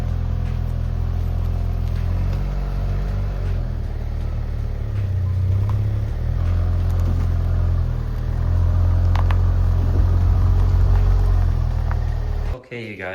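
A car out on a test drive after a brake job gives off a steady low road rumble and engine drone from inside the cabin. The drive continues throughout, with a voice talking over it and an abrupt cutoff at the end.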